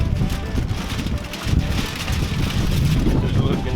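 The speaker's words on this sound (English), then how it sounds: "Having fits with this wind" Gusty wind buffets the microphone outdoors beside a Char-Griller offset smoker during a long chuck roast smoke, a steady low rumble that swells louder in the second half with no one speaking.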